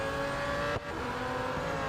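McLaren Solus GT race car in the mobile racing game Real Racing 3, with a loud sustained engine roar and a brief dip as the revs shift midway, heard alone.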